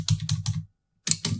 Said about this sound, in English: typing and talking at the same time is so difficult